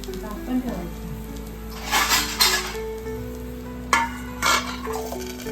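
Lid set on an appe pan while rice appe fry, a few close metallic clinks over a steady background sizzle.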